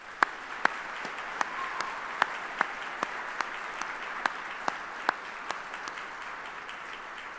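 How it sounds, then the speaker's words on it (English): Sustained applause from an audience at an army retirement ceremony, a steady wash of clapping with a few sharp, distinct claps standing out, moderately loud and without voices. "Please join me in a round of applause for our families and their retirees."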